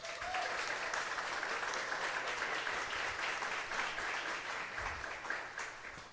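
A church congregation applauding during a sermon, a dense steady wash of clapping that holds for the whole stretch and fades only slightly near the end.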